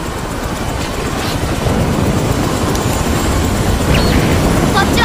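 A constant low, rumbling helicopter engine drone from a Dirge of Cerberus CG movie fills the clip, with faint higher tones over the top.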